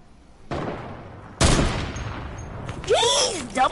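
Sniper rifle shots in a video game land as two sharp, loud blasts a second apart. Each is followed by a ringing decay, then a swooping, whooshing game effect and a final thump.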